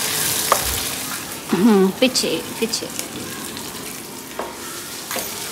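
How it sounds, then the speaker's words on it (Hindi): Tadka of cumin, ginger and onion frying in hot oil, a steady close sizzle with stirring and clinks of a utensil, while a voice speaks briefly over it. "अब ये लग रहा है हमारा तड़का।"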